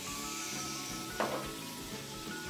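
Chicken with tomato and basil sizzles steadily in a pan for Cameroonian poulet DG, with a brief scraping stir partway through, alone and fairly close.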